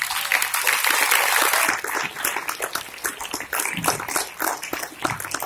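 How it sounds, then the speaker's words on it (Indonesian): Applause from an audience at a closing evening motivational program, a dense burst of many hands clapping that stays loud throughout and thins slightly in places. "Sekali lagi nak dengar tepuk gemuruh boleh."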